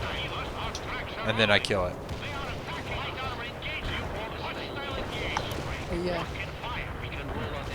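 Missiles fire and explode in a Soviet-mission strategy video game, with bursts of booms and rumbling blasts running under steady speech.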